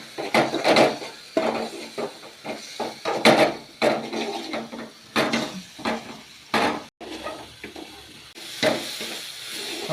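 Papadam curry is stirred in a pot, giving loud, close, rhythmic scraping and clattering strokes of the spoon against the pot, heard alone.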